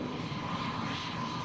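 Powerful military aircraft engines drone overhead at an air show, a broad, steady roar with a faint tonal hum that persists evenly without a break.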